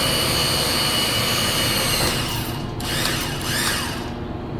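A VEVOR 120V electric chain hoist rated for 2200 lbs lifts a metal table loaded with sockets and wrenches, giving a steady loud mechanical whir with a ratcheting chain rattle that shifts pitch near the end.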